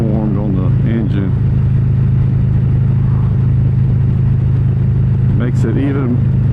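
Harley-Davidson Road King with a Stage 2 engine upgrade, recorded on the move through a helmet: a loud, steady low engine drone runs throughout beneath wind noise, with someone talking over it.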